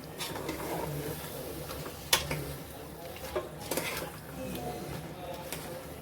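Mixed vegetable curry with bay leaf being stirred in a pot, quiet scraping and a few sharp clinks of a spoon against metal, faint sizzle beneath, no talking.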